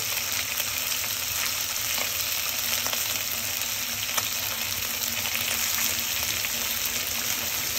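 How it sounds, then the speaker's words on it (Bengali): Fish frying in oil in a pan, with a steady, even sizzle that carries on without a break and has faint clinks and stirring now and then. "এটি আমরা আবার মাছটা ভেজে নেব"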